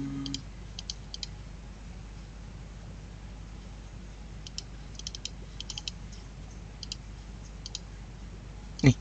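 Sparse mouse clicks and light keyboard taps from someone working at a computer while building a website. The clicks come in small irregular bursts over quiet room tone, with one louder knock at the very end.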